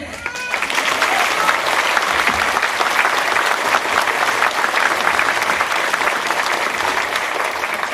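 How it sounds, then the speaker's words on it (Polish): Steady, dense audience applause filling a charity concert hall, continuous and loud throughout with no break. "Dziękujemy bardzo za brawa."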